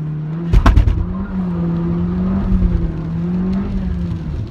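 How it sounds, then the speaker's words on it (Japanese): A Suzuki Swift Sport with six-speed manual accelerates hard from standstill, engine droning steadily and climbing in pitch, with a burst of sharp knocking clunks from the drivetrain near the start. "ちょっとゼロ発進加速をやってみます"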